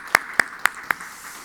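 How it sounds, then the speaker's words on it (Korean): A church congregation at a Friday prayer meeting claps for the worship team, the short run fading to a few separate claps, four distinct strikes spaced evenly, moderately close. "우리 다 같이 찬양팀을 위해서 우리 한번 경례의 박수 한번 하도록 하겠습니다."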